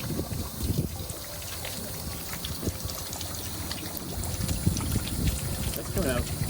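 Fluid pours and trickles out of a Ford Ranger transmission as it drains, a steady close liquid splatter running throughout with people talking over it.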